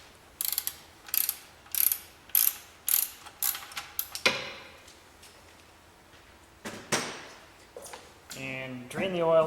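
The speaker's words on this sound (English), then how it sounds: "using a 17 millimeter wrench or socket wrench, you can loosen the drain plug" Socket wrench loosening the oil drain plug on a 1.8T B5 Audi A4: a run of crisp, evenly spaced ratchet clicks up close, then a pause and some metallic handling, with a voice talking over parts of it.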